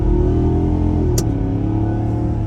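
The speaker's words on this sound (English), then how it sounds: "Looks like we'll have an opportunity to try an acceleration out off the line" A 2024 Ford F-250 XL STX pickup accelerates hard from a standstill, a loud, close, low engine roar with shifting pitch and a brief high squeal midway.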